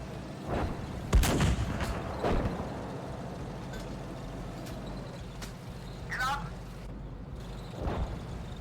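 Several heavy tank cannon blasts boom out over a steady engine rumble in the game GHPC, with a voice speaking between the shots.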